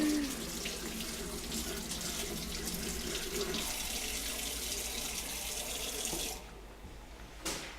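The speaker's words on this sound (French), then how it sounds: "il faut faire couler de l'eau." Kitchen tap running steadily while an onion is peeled under the stream, a soft continuous splashing wash that stops near the end.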